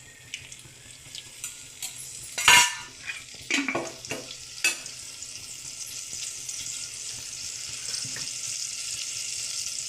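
A few clatters and scrapes, then a steady hiss of onions and green chillies frying in hot oil in a pot builds and keeps sizzling.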